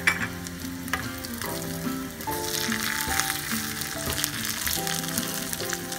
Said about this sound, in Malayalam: അപ്പൊ നമുക്ക് കരിവേപ്പിൻ്റെ ഇല ഇട്ട് കൊടുക്കാം.